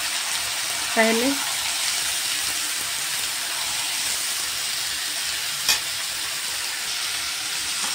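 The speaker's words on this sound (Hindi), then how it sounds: "अब हमने तेल ले लिया, उसमें इसे फ्राई कर लेंगे तेज करके, जो कटहल है" Chopped jackfruit frying in hot oil over high heat, a steady loud sizzle and crackle running the whole time, with a brief spoken word near the start and a sharp clink later.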